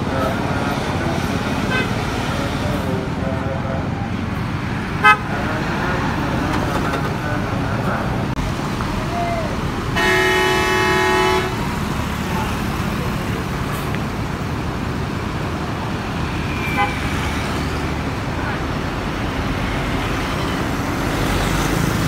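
An intercity bus pulls out toward Jakarta amid busy roadway traffic, engine rumbling steadily with a loud horn blast in the middle, while other vehicles pass and faint voices sound nearby.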